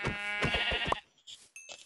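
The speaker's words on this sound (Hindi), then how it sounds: "ओ बकरी की आवाज तो आई है, कहीं आस पास बकरी है" A goat in the Minecraft video game bleats in a drawn-out, wavering cry, followed by a couple of fainter game sounds after a short pause.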